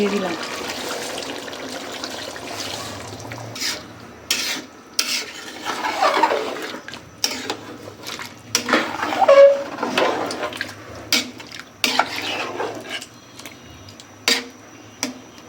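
A little water is poured into frying spices for a Bangladeshi beef curry and stirred, with wet trickling and repeated scraping strokes of a spoon against the pot in irregular bursts, close and fairly loud.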